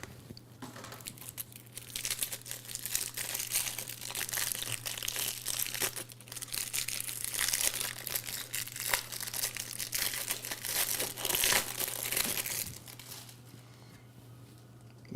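Foil wax packs of 1993 Flair baseball cards being torn open, a steady close-up crinkling and crumpling of wrapper that runs for most of the stretch before easing off near the end, with a low steady hum beneath.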